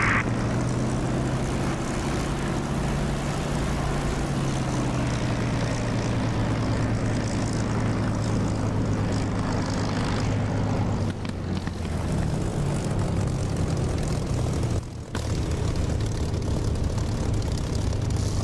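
Propeller aircraft engine at takeoff power in the DCS flight simulator game, a loud steady drone with a low throbbing hum throughout, briefly dipping twice near the end.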